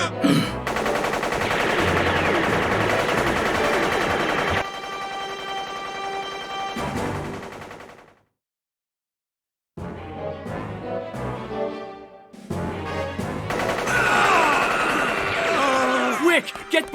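Rapid bursts of Nen bullet gunfire in an anime battle blast loud and dense amid dramatic music and shouting, cutting out briefly into silence before the barrage resumes.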